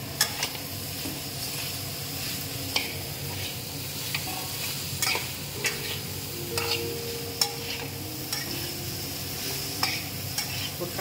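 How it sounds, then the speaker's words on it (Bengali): Chopped banana stem being stirred and sautéed in a pan with chilli powder and turmeric, a soft steady sizzle broken by repeated scraping stirs of a spoon, fairly quiet and close. "দিয়ে এটাকে মিশিয়ে দিয়ে থোড়টাকে দিয়ে আমি ভালো করে কষাবো"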